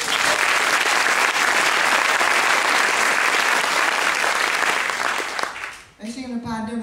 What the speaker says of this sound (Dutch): Dan mag ik een applaus voor onze dirigent